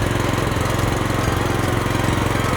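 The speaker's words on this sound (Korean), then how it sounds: "이제 주행을 하실 때는 엔진 출력을 올려주시고요" Paddy-field bank weeder with its small engine throttled up while driving forward in first gear, a loud, steady, rapidly chugging mechanical drone with a buzzing rattle, close and unbroken, no voices.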